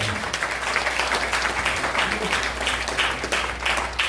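A church congregation applauds together, dense sustained clapping from a crowd that fills the room evenly, with a murmur of voices mixed underneath.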